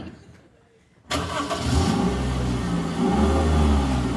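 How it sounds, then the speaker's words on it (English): A car engine cranks and catches after a quiet moment, then settles into a loud, steady running rumble close by. "Everybody go ahead and start up your car."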